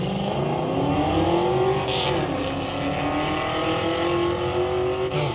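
A Mustang GT 5.0 races a Dodge truck, with loud, steady engine roar close by and rising, revving tones running throughout, and no talking.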